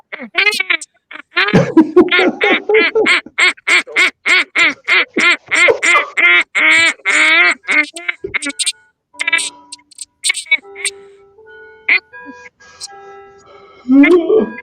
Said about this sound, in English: poor duck. That one sounds like it's hurt.